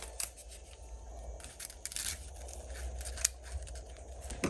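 Scissors snip away excess trim on a handmade vintage Valentine cloche decoration, several quiet, close cuts in an uneven rhythm against a faint background.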